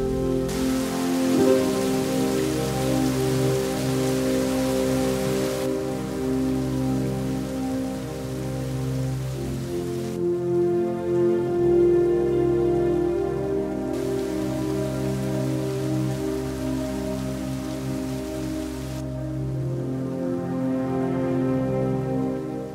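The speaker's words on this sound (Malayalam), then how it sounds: "നമ്മൾ കോട്ടേജിലെത്തിയപ്പോഴേക്കും നല്ല രീതിയിൽ മഴ വന്നു തുടങ്ങി." Heavy rain pours down outside a cottage in Munnar, a dense, steady hiss of drops drumming on surfaces that carries on without a break, loud and close, with no voices.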